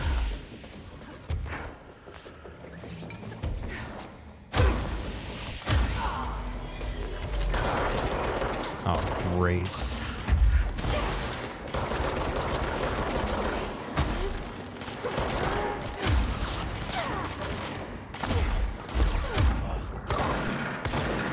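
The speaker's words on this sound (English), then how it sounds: "it shouldn't take like that many shots to kill that guy when I'm right up in his face with the shotgun" Shotgun blasts from the video game Control, fired at close range in repeated sharp booms spaced through a chaotic fight, with crashes and mechanical clatter between shots.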